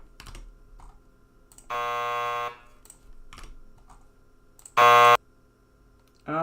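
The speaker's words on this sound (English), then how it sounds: "I need to make the buzzer louder." Two electronic buzzer tones from a marble video game in development, a quieter harmonic buzz lasting under a second, then a louder, brighter blast a few seconds later, over faint background clicks.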